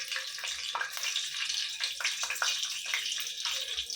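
Fenugreek seeds and curry leaves sizzle in a pan of hot oil for a tempering, a steady crackling hiss with scattered sharp pops, close and moderately loud, with no voices over it.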